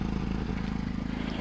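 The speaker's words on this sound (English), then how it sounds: "It definitely still is misfiring." A Ford Focus engine, recently rebuilt with fresh timing, idles with a misfire: a steady, close, low mechanical drone with a rapid, slightly uneven pulsing and no voices.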